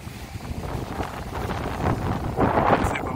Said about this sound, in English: Probably very windy.